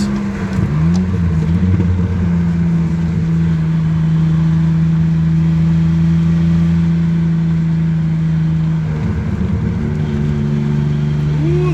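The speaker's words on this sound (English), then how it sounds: "So why don't I downshift to second?" A Subaru XT6 coupe's six-cylinder engine drones steadily at mid pitch, then its revs shift around the nine-second mark as the five-speed downshifts to second, loud and close throughout.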